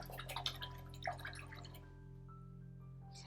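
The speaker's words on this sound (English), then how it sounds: "then rinse your brush" An acrylic paintbrush is rinsed in water, making faint splashes and drips early on that fade into near-quiet, with a steady low hum underneath.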